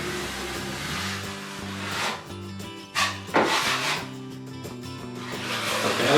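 A drywall taping tool is drawn across a flat tape joint, giving repeated scraping, rubbing strokes of varying loudness close up, with someone speaking over them.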